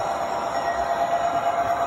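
An American Flyer SD70ACE model train runs steadily along the track, giving a continuous close rumble and whir with no pauses for the full stretch.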